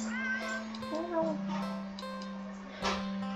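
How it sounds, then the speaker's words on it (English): A black cat gives a few short meows over a steady low hum, with a human voice talking quietly underneath. "Then again, it is a cat."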